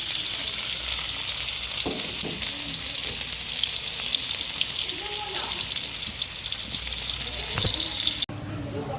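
Ginger, onion and garlic sizzle loudly together with frog meat in a hot pan, a dense continuous frying hiss with occasional stirring clinks, while a voice speaks briefly over the cooking.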